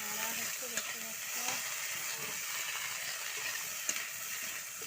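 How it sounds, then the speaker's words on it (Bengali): Fish fry in a wok with a steady crackling sizzle, broken by occasional sharp pops and clinks of stirring. "কড়াতে মাছ ভাজা হচ্ছে"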